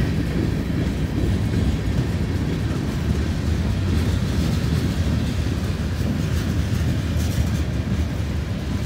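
A CSX freight train hauling coil cars, which carry steel rolls under covers, rumbles steadily past at close range for the whole stretch, a dense continuous low roar with faint wheel clatter and some wind buffeting.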